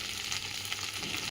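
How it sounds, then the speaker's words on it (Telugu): Cut okra pieces sizzling as they drop into a hot tempering of curry leaves and asafoetida, a brief, even hiss of frying with no talking. "మనం ఈ ముక్కలు చేసుకుని ఉంచిన బెండకాయ ముక్కల్ని ఈ పోపులో వేసుకుంటామండి"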